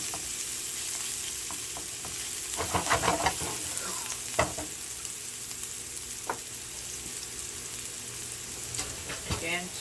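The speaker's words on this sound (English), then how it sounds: "So to the onions, we're going to add a little bit of garlic" Onions and garlic sizzle in a pan, with a steady frying hiss broken by scattered clicks and scrapes of stirring, close and fairly loud, with no voices.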